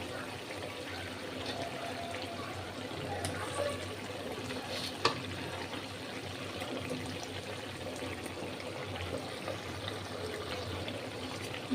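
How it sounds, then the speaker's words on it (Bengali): Garlic paste frying in a pan while a fish curry with potato and eggplant is cooked, giving a steady, even sizzle with faint stirring and trickling throughout and no voices. "এখন আমি রসুন বাটাটা দিয়ে দিব"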